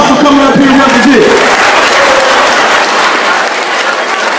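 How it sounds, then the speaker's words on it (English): Loud applause and cheering from a crowd at an art camp event, dense clapping throughout with a voice speaking briefly over the start before the clapping carries on alone. "Give them a round of applause for coming up here and representing."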